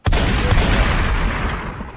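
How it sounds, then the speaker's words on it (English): Gunshot sound effects boom out loud and close, with an opening blast, a second shot just after, and a long rumbling echo that fades away. "Gunshots for you."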